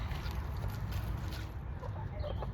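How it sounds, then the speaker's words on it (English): Chickens cluck steadily at close range against a constant low background rumble, with no pauses across the stretch. "You alright, chickens?"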